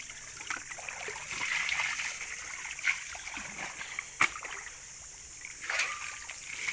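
Water is poured over a sluice carpet while panning for gold in a forest, giving soft, faint splashes and trickles that come in a few uneven bursts.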